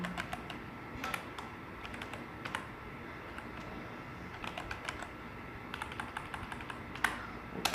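HTML code typed on a computer keyboard, quiet close key clicks in irregular bursts and pauses, with no talking.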